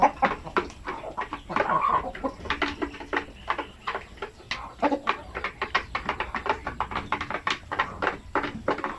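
Hens in a backyard coop cluck in quick, repeated bursts, several birds overlapping close to the microphone with a busy, uneven rhythm and no voices.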